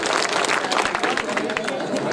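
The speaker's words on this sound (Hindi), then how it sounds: "एक बार मुझे तालियों के साथ हौसला अफजाई।" An audience at a mushaira poetry gathering in Jalgaon, Adawad, claps in a dense, continuous burst of applause that fills the whole moment with crowd noise.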